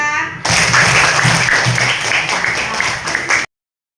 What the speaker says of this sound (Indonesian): Beri aplaus buat Arin dan Naira.